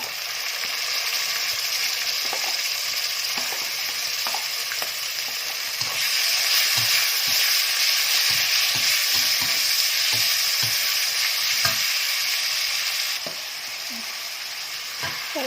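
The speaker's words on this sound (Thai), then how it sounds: "ไม่ได้ลวกนะคะตอนนี้เอาไปผัดเลย" Chili leaves and vegetables stir-fried in a pan, a steady loud sizzle with scraping stir strokes throughout, no voices.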